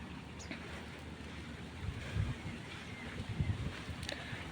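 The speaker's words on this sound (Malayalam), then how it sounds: "ഇവിടെ നിന്നാണ് നന്നായിട്ട് കാറ്റടിക്കുന്നത്" Steady wind from a backwater blows across the microphone in a low, constant rumble with soft gusty swells, fairly quiet overall.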